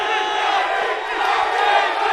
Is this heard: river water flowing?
no